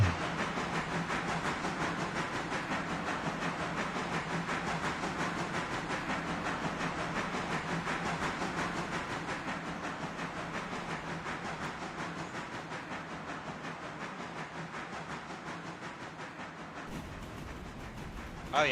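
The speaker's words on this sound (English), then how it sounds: "My entire room is shaking right now because freight train." A freight train in an adjacent rail yard rumbles past nearby as a continuous low, hissing roar that shakes the room and holds steady before fading at the end, with no voices.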